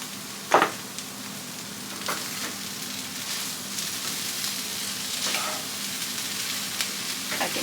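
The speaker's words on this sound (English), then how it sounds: "I can hear the peppers and onion kind of sizzling." Peppers and onion sizzle in a pan, a soft steady frying hiss with occasional crackles and a few louder pops and stirring scrapes, close up with no talking.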